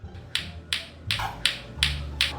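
A lato-lato clacker toy clacks in a steady rhythm, six sharp, bright clicks spaced about a third of a second apart, close and fairly loud over a low background hum.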